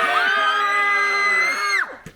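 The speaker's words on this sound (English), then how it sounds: "I told them to scream to make it more interesting." A group of people scream together in a long, loud, sustained shriek beside a homemade guillotine, holding steady before breaking off abruptly near the end.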